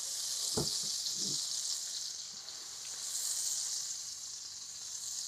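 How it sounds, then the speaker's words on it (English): A steady, bright sizzle of butter hisses continuously from a hot frying pan, with a couple of soft clinks near the start. "The butter's starting to sizzle in the pan."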